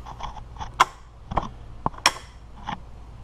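A car transmission's park pawl lever is moved by hand via its rod and shift cable, giving a handful of sharp metallic clicks and clacks, close and fairly quiet, with faint rattles between.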